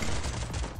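Rapid gunfire from a battle royale video game crackles in a brief, dense burst of shots.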